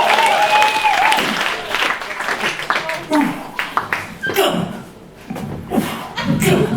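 Enthusiastic audience applause at a Comic Relief improv comedy show, loud sustained clapping with some cheering and chuckles, fading slightly then swelling again, with voices talking over it.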